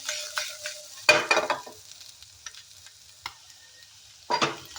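Potatoes seasoned with red chili powder are stirred and tossed in a hot pan, giving a few scraping, sizzling strokes with quiet gaps between them, close by.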